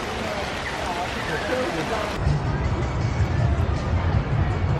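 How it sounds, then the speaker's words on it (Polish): Dense, steady hiss of heavy rain pouring down on an outdoor concert, with a low rumbling drone under it and faint crowd murmur in the background. "koncert został przerwany przez ulewny deszcz"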